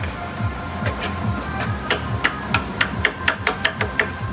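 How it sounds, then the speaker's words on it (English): Hammer blows ring out sharply against metal while removing the axle of a 1966 Ford Thunderbird, scattered at first, then coming in a quicker, steady run of a dozen or so strikes over low background rumble. "you're gonna have to really put some ass into that, hitting with the hammer to get it to go"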